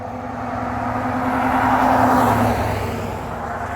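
A car passes on a road beside an abandoned roadside property, its engine and tyre noise rising steadily to a loud peak at mid-clip before fading away.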